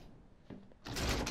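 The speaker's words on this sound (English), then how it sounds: "And then I just gotta open this door here." In the Resident Evil 7 video game, a door opens with a short creak and thunk, followed by a broad, loud sliding rush as it swings fully open.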